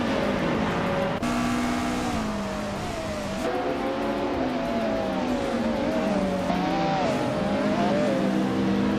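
Race car engines drone and rev continuously in a racing video game featuring a 1989 Ferrari F40 Competition, pitch rising and falling with gear changes and no talk over them.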